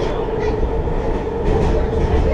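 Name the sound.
WMATA Rohr 1255 metro train passing over a switch point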